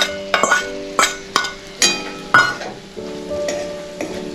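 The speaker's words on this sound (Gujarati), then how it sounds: "આપણું ઘી ગરમ થઈ ગયું છે, હવે આપણે એમાં કોપરાનું છીણ ઉમેરીએ।" Grated coconut frying in hot ghee for a Diwali sweet, with sharp clinks of a metal spoon against the pan and a soft sizzle between strokes, close up with no talking.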